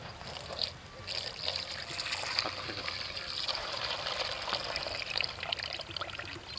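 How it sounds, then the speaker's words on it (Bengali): Milk poured over ice for a sharbat, a steady trickling, splashing pour that runs almost the whole time, close and moderately loud, with faint voices in the background. "ঢালো দুধ ঢালো"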